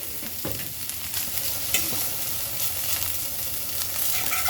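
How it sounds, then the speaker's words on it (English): Onions and mushrooms sauté in a dry, salted pan, stirred with a fork: a steady close sizzle with scraping stir strokes throughout, no voices. "Stir it around. Make sure it picks up that salt."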